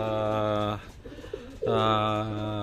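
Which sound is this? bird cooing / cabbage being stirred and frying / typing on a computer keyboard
bird cooing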